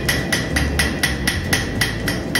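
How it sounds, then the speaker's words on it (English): Hammer blows on heated metal during the forging of a knife from scratch, about nine sharp, evenly spaced ringing strikes in a steady rhythm, close and loud with no talking. "they keep heating it up and you hammer into it"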